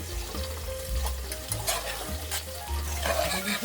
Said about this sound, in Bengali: আমি 2টো কাঁচা লঙ্কা উপর থেকে দিয়ে দিচ্ছি।